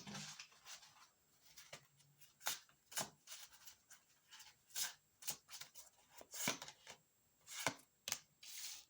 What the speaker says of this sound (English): Let's shuffle it again.